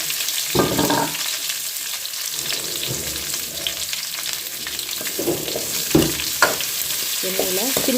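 About five chopped large onions sizzle steadily in hot oil for a Tamil fish curry. The frying hiss is constant and close, broken by clinks and scrapes of stirring and a few brief sharper knocks.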